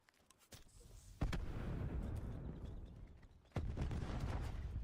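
A grenade goes off in a first-person shooter game, two heavy booming blasts with rumbling tails rising out of quieter game ambience, the second close after the first.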